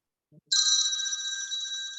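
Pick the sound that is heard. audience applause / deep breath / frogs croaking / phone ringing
phone ringing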